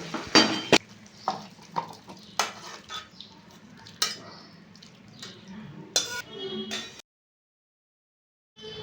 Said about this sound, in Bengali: আর ভালো করে নেড়ে নেবো